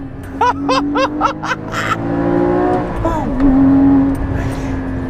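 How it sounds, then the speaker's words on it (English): Porsche Cayman GT4 flat-six engine with sports exhaust in loud mode, a steady near drone that holds and swells before easing off, with speech over it and some short voiced sounds early on. "click the loud button and oh, that is what a flat six should sound like"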